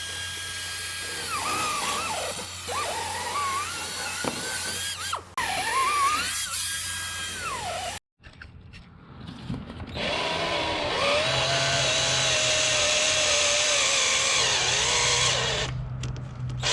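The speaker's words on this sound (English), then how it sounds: "use the smallest bit possible and work your way up as necessary" A power drill bores out an old choke tube on a 1967 Mustang with a 289 V8, whining in high-pitched bursts that rise and fall, then a sustained loud grinding run after a brief pause.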